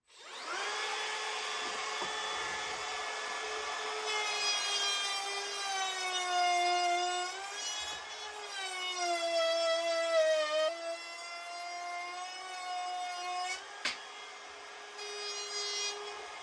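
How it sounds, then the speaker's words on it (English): A router fitted with a straight bit cuts across a wooden board for a rowboat rebuild, a loud sustained high whine with a strong tonal pitch that dips and rises as the bit bites into the wood. "And then I have my router set up with just a straight bit in it. And I will take and just run this across that board."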